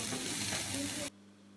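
Loud, steady sizzling of pork frying on a hot tabletop grill, crackling continuously for about a second before cutting off abruptly to near silence.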